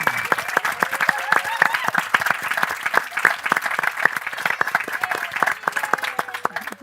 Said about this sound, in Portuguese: merece uma salva de palmas nossa